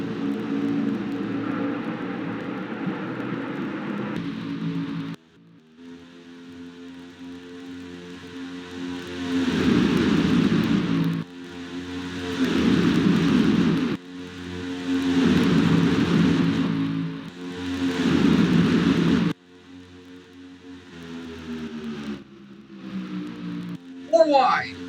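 Stock car engines in the NASCAR Racing 2003 video game at the Daytona 500: a dense, droning pack that surges loud and falls back several times, with a commentator talking throughout.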